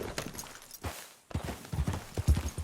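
Horse hooves clip-clopping in the video game Red Dead Redemption 2, a brief run of close hoofbeats, then a short pause before a faster, louder series of steps.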